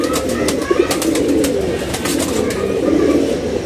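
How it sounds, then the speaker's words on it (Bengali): A pair of Army-line pigeons, male and female, coo steadily in low, throaty bursts, loud and close, with faint clicks and rustling over a constant background hum. "সুন্দর একটা কবুতর দেখেন ডাকতেছে নর এবং মাদি"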